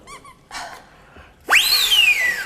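A toy whistle blown in a television studio gives a loud rising-then-falling sliding squeal in the second half, preceded by a couple of short faint toots and soft background sound.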